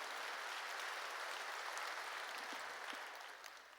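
Church congregation applauding together, a steady wash of many hands clapping at moderate distance, fading slightly at the end.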